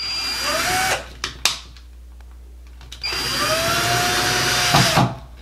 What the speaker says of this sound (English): we're gonna test out the right side and just see if we feel the screw bite into the stud over here